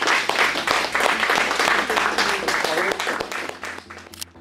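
Event attendees clap for themselves at the close of a business networking day, a dense spread of clapping running under a steady spoken voice and gradually thinning out.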